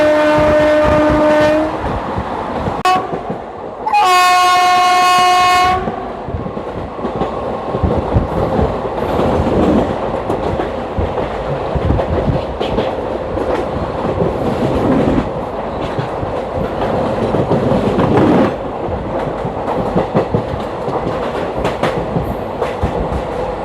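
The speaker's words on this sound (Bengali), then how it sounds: "আমাদের ট্রেন এখন এসে পৌঁছেছে উলুবেড়িয়াতে।" The 03161 Kolkata-Digha Special Express opens with two horn blasts, then a continuous loud rolling rumble with rhythmic clickety-clack of wheels on rails heard from inside the moving train.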